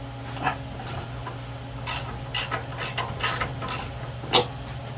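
The starter cord of an old Craftsman engine is pulled several times. Each pull makes a quick ratcheting rattle in uneven bursts, close by, and the engine does not start.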